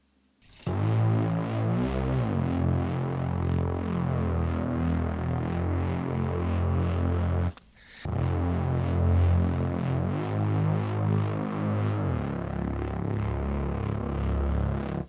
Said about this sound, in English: The Reese Bass is one of the classic sounds in drum and bass.